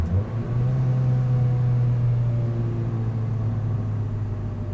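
A tuned Mazda NC Miata engine pulls on an open road, a steady droning hum with a rising tone and constant road rumble underneath, heard from inside the car.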